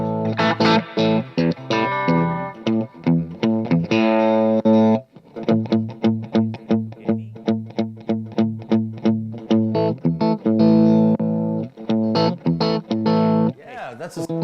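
Modern blues-rock electric guitar played through an amp profile, a driven, chorused tone with effects, ringing chords then a run of short picked notes in a steady rhythm, loud and close with no talking.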